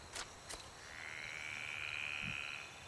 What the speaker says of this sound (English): Is that what frogs sound like?